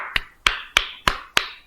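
Five sharp, evenly spaced claps from a small group of students in a microteaching classroom, crisp and close, each with a quick decay and no talking in between.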